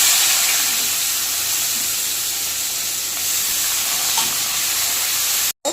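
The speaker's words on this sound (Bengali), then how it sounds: "আমি এই কুচনো পেঁয়াজগুলো দিয়ে দেব।" Chopped onions hit hot oil already seasoned with cumin seeds, giving a steady, close frying hiss that holds for several seconds before it cuts off abruptly near the end.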